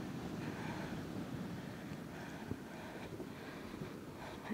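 Wind gusts steadily across the mic outdoors on a misty, overcast evening, a constant broad rumbling roar with faint shifts in strength. There are no voices and no other distinct sounds.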